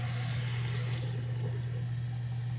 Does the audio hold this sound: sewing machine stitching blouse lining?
no